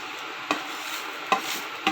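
A spoon stirs payasam with fried cashews, raisins and vermicelli in a pot, knocking against the side three times at uneven intervals over a steady hiss.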